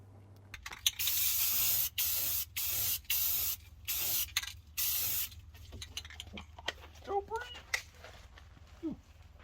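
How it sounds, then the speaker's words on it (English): Short bursts of hissing aerosol spray primer repeat in a steady rhythm onto the back of a plastic car badge, followed by faint clicks and light handling noises. "I'm going to go get some spray primer and I'm going to prime the back of it"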